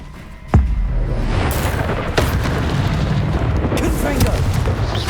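A Bombarda blasting spell erupts in Hogwarts Legacy combat with a sharp, heavy boom followed by rumbling blast noise and further crackling impacts, with voices in the game mix.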